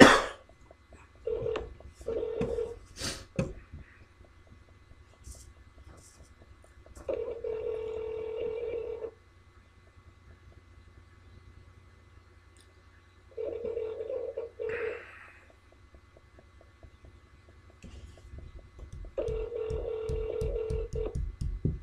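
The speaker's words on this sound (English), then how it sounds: "She didn't answer, so I'm going to call back" Telephone keypad tones beep in short bursts as a number is dialed for a call, with gaps of quiet between groups of presses and no talking.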